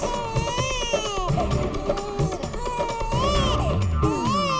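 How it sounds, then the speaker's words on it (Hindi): A baby wails in rising and falling bursts amid a noisy, crowded household scene, with people talking and moving around nearby throughout. "ये तो बच्चे के रोने की आवाज है।"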